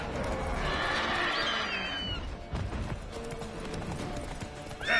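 Roach the horse gallops in The Witcher 3, with steady hoofbeats under a windy outdoor wash, a brief whinny-like swell early on and a small clatter at the end.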